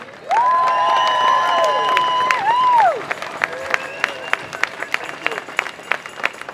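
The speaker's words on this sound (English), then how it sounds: "they deserve a very solid, strong, supportive round of applause." Audience at a political rally applauding, with a sustained loud wash of clapping and cheering over a whistle-like tone at first, then thinning into scattered individual claps.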